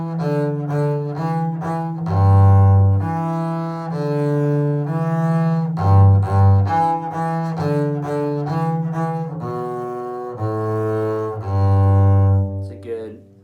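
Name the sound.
double bass playing Shortnin' Bread pentatonic tune in 3rd position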